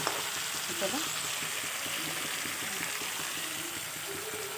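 Meat stock poured into a pan of spicy chicken hisses and sizzles in a continuous loud wash of frying noise, steady throughout with a faint voice underneath.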